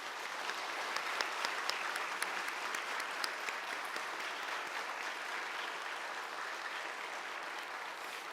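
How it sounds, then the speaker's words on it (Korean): A church congregation applauds steadily throughout an elder installation service, a sustained, even clapping from many hands in a large room. "우리 돌아서서 인사하실 때 다시 한번 박수하시겠습니다"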